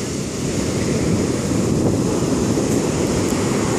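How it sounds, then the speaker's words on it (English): Steady roar of ocean surf on a Bali beach, loud and continuous, with wind noise buffeting the microphone throughout and no voices. "I love the sound of waves crashing on the beach."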